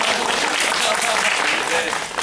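Audience clapping at a theatre curtain call after a play's final performance, a loud, dense burst of applause that fills the short moment and tapers slightly at the end, with voices mixed in.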